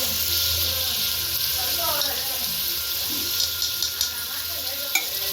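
Onions fry in oil and ghee, giving a steady soft sizzle with light stirring scrapes and faint clinks over a constant hiss, close by and fairly quiet.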